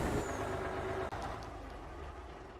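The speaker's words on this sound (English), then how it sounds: "this truck is for some reason louder than this combine with a loud freaking motor" A semi truck engine in Farming Simulator drones steadily and loudly at idle, a dense, even rumble with one brief dropout partway through.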